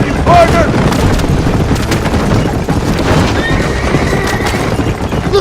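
Horses whinny and gallop in the Western video game Red Dead Redemption, a loud, dense rush of hoofbeats and neighing under booming effects and bursts of gunfire, with voices in the mix.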